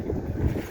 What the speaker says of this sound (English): trying to avoid some of this wind they got here